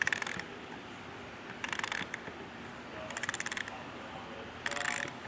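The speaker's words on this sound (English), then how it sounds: "we can then come to this bolt on the bottom and tighten that down the rest of the way with our 10" A 10 mm wrench tightening a bolt on a Rhino-Rack roof rack leg on a 2023 Jeep Gladiator, four short bursts of close ratcheting clicks between quiet pauses.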